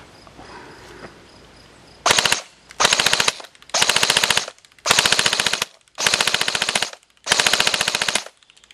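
A Code-8 PTW electric airsoft gun fires six loud, rapid full-auto bursts, each lasting under a second, with short silent gaps between them, heard close and alone.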